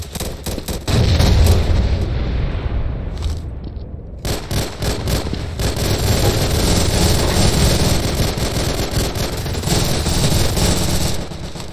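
A grenade explodes on an armored vehicle during a Garry's Mod firefight, a loud burst landing amid continuous dense gunfire that roars without letup, close and harsh.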